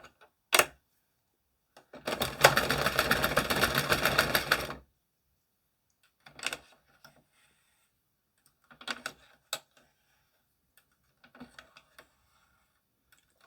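A 22-pin circular knitting machine runs for a few seconds in a dense rapid clatter of rattling clicks, with scattered lighter clicks and handling taps before and after it in otherwise quiet surroundings.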